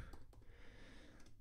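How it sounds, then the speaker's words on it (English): Typing on a computer keyboard one-handed, a few faint, sparse key clicks at close range with no talking. "I'm typing one-handed here if you're wondering why I'm so slow."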